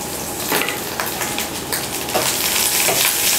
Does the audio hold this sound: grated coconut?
yes